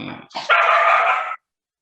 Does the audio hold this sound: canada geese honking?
no